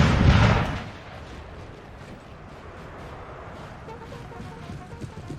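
Artillery fire in a Napoleonic Total War 3 4v4 battle: one loud, close cannon boom opens, then a lower rumble of distant gunfire and battle noise carries on without talk.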